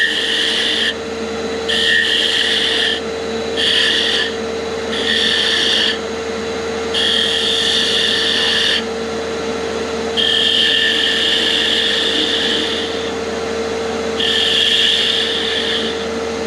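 A wood lathe spins steadily as a tool cuts a cove into a Christmas sphere ornament, with repeated raspy cutting passes lasting about a second each, coming and going over the constant motor hum.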